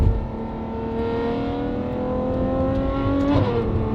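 A Ferrari 812 with an unrestricted titanium race exhaust revs and drones with a loud, raspy exhaust note, pitch climbing steadily before a sharp shift near the end.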